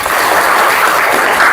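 A class of students claps together in a classroom, a loud, close, continuous burst of hand clapping that lasts the full short moment without talk.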